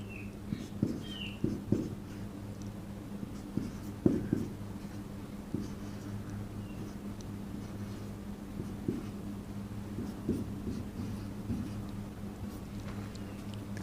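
A pen scratches across paper by hand while a formula is written out, producing soft, irregular strokes and taps close by over a steady low background hum.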